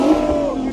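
A 1000hp single turbo BMW M4 CS (G80) engine revving, heard from a distance as a loud, sustained droning roar over less than a second.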